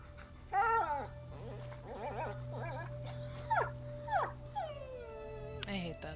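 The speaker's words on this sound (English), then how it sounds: "I hate that sound. My dog." A dog in A Plague Tale: Innocence whimpers and whines in a series of short, pitched cries that rise into a drawn-out howl, heard close over a low steady background hum.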